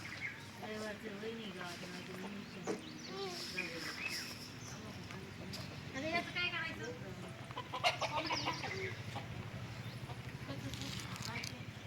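Chickens cluck and squawk in a village yard while people nearby talk and call out, the fowl sounds coming in short bursts among the voices, moderately close.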